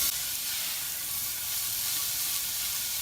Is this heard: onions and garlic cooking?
yes